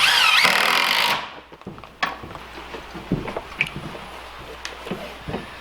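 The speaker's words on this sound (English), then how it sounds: "So I'm going to put a few screws in this" Power driver sending screws into a lumber backstop during wall framing, a brief loud whir at first followed by scattered knocks and clatter of handling wood.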